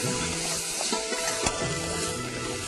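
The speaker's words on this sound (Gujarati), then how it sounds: "સંતળાઈ ગયું છે આ બધું." Vegetables sauté in a pan for sambhar, a close steady sizzle with the scrape and clink of stirring, no voices.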